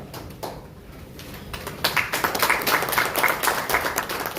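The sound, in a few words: journalists clapping at a press briefing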